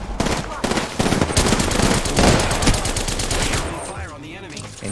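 Rapid bursts of gunfire in the video game Apex Legends, close and loud, with dense automatic shots crowding the first few seconds before thinning out, and a voice talking underneath.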